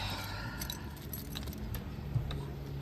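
Car keys jangling near a Nissan S13 during work on its fuel system, light metallic clinks scattered over a low steady background hum, quiet and close.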